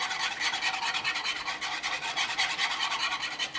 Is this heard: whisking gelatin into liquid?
yes